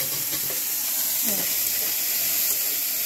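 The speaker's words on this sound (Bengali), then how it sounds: "আর আমি এখন ছোলাটাকে ফ্রাই করছি" Chickpeas fry in a pan with a steady, loud hiss and sizzle that holds evenly throughout, with no voices over it.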